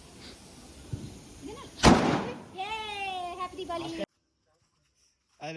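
A Diwali firecracker bursts with a single loud, sharp crack partway through, amid a family celebration where people talk before and after the blast. The sound then cuts to near silence.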